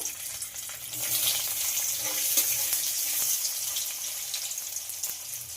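Cubes of paneer dropped into hot mustard oil in a kadai, a steady hissing sizzle with a bright, watery crackle running throughout at close range, no voices.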